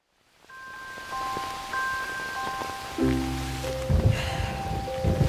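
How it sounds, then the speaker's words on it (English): Steady rain patters in a soft hiss under gentle chiming musical notes, growing a little louder partway through. "Man, I'm sick of this rain."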